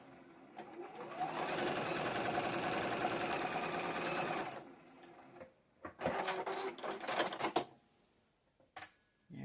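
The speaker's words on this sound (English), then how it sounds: "I'm going to draw, sew a straight line" A home sewing machine runs steadily for several seconds stitching a straight seam through fabric, a fast even whirring rattle, followed by shorter stop-start bursts and a few clicks.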